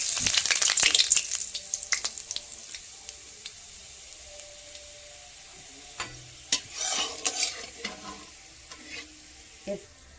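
Crushed whole garam masala spices sizzle in hot oil while being stirred for a mutton curry with purple cauliflower. A steady, close crackle runs throughout, with scraping stirs and clinks bunched in the second half.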